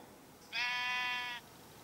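A single sheep bleat in the Minecraft video game: one clear, steady, nasal bleat lasting under a second, alone against near silence.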